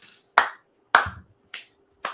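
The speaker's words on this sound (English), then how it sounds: "You're clapping." Hands clap four times, each a sharp close slap with a short decay and long even pauses between them, in a quiet room.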